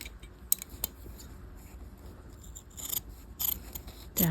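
Scissors trim the fabric of an undercollar, giving a few sharp close snips at first and then a louder burst of cutting near the end, with no speech.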